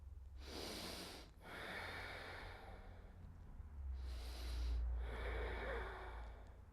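Slow breaths during a seated stretching twist: two long, airy exhales drawn out over a couple of seconds each, close and soft over a low background hum.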